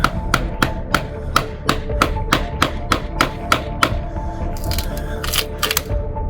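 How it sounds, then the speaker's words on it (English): A steel chisel is struck by a mallet in a boatyard, about a dozen sharp, evenly spaced knocks ringing out close by, followed by a few faster, brighter taps near the end. "you can hear a pussy hitting a chisel with a mallet"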